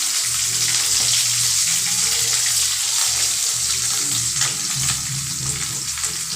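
Mutton kulambu ingredients sauté in a pan until golden brown, a steady close sizzle with scraping stirs throughout, over a low hum and no talking.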